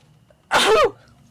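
A single sharp sneeze bursts out about halfway through, loud and close, with a quick breathy onset and a short voiced tail against near silence.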